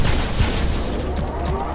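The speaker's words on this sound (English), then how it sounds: "They're still shooting me!" Enemy gunfire in the video game Black Mesa, a dense, loud burst of booming shots and low rumble that fills the moment without a break.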